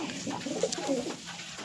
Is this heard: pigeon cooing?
yes